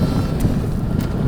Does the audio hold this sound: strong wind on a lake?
yes